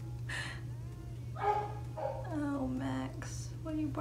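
A pet dog barks and yips in a few short bursts indoors, fairly close, over a steady low hum, with a voice talking around it.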